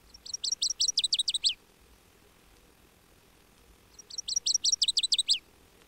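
Two bursts of loud, ringing northern waterthrush song in flooded woods, each a quick run of bright repeated notes, separated by a few seconds of quiet.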